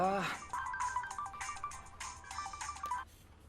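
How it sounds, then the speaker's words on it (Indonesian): A mobile phone rings with a repeating electronic melody. The ringing is fairly close and continues for a few seconds, mixed with other scene sounds. "dia mendengar bunyi telepon lagi. Tetapi kali ini dari handphone orang lain"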